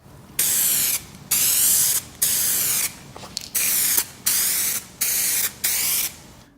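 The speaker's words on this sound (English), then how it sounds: "you are spraying clear coat on a panel" Repeated bursts of spray gun hiss as clear coat is sprayed onto a car panel, about eight short passes with brief pauses between, steady and close.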